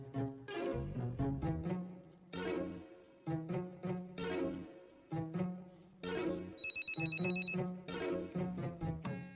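A telephone bell rings in repeated bursts with short pauses between them, loud and close, with no talking.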